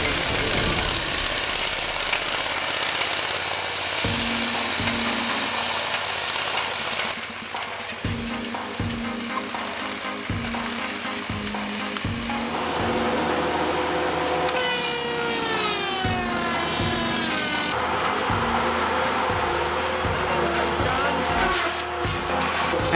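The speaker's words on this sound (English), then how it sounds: "The radio-controlled steel beasts spring into action, their engines roaring across the snow-covered mountains" Radio-controlled tracked log haulers roar across snow-covered mountains as they haul long, multi-ton logs. Their loud, steady engine drone carries throughout, broken by repeated low thuds and clanks and a rising whine near the end.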